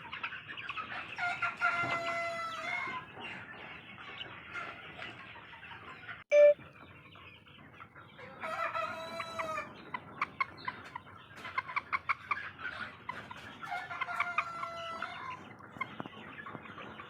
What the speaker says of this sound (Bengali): দেখুন এতগুলো মুরগি,